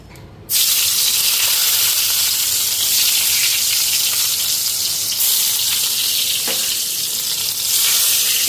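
Eggplant slices fry in hot oil with a loud, continuous bright sizzle and hiss that starts abruptly and holds steady, close by, with no talking.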